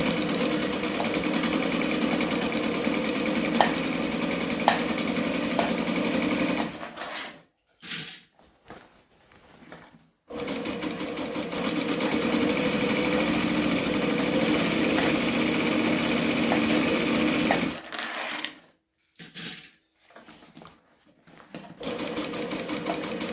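Sewing machine stitching around the corners of a bag lining, a loud steady motor whir and needle chatter in long runs, broken by short stops and restarts as the fabric is turned.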